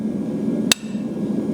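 A single sharp, ringing strike of a blacksmith's hammer on hot metal at the anvil, close and loud, over a low background hum.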